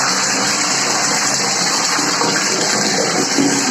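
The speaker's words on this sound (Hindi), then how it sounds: "बाथरूम में तो मैंने पानी भर दिया" Water gushing steadily from a tap into a bucket in a home bathroom, loud and close, a continuous unbroken rush with no talking.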